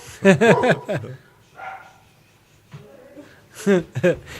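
Dogs bark at visitors arriving at a house, loud close bursts at the start and again near the end with a quieter gap between, mixed with a person talking.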